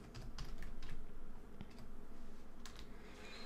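Rapid keystrokes on a computer keyboard clatter up close in a continuous run, with short bursts of clicking and no talking.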